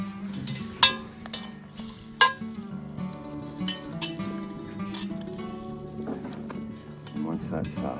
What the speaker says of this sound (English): And we want to get that butter melted